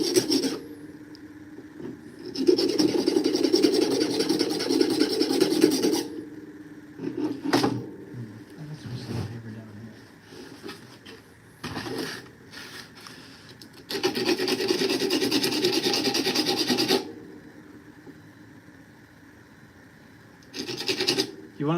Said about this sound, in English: so a couple scrapes on the file